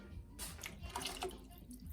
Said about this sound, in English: give it a good shake, and pour it right into my pot here.